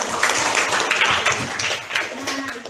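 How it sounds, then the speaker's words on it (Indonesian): Students and participants clap in a school classroom session, a lively burst of applause from a small group that rises and falls, fairly close. "Tepuk tangan dulu untuk kalian yang"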